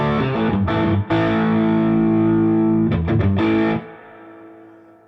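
An electric guitar played through the overdrive clean boost of a Gristle King pedal rings out sustained, gritty chords that break briefly, swell again and then fade out at the end, loud and close with no talk.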